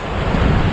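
Strong seaside wind batters the microphone at Alum Chine beach in Bournemouth, England, a loud continuous roar and rumble with surf blended in and no talking.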